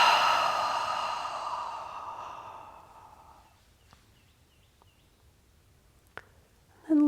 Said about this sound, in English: And then exhale it all the way out.